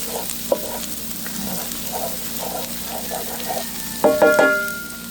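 Vegetables sweat in a hot pan for a quiche Lorraine, a soft steady sizzle under light scraping stirs, then a louder clatter of utensil against pan near the end, close with no talk.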